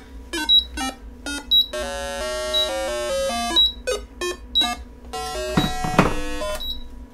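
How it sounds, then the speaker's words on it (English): A variometer on a model aircraft receiver, wired through a Jeti-to-Crossfire protocol converter, beeps loudly and close in rapid rising and falling electronic tones, with short chirps, longer stepped trills and a few handling thumps near the end. "I'm going to turn the Vario on. And you hear that beeping?"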